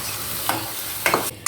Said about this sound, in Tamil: பாலக் கிரேவி கொதிக்கட்டும்.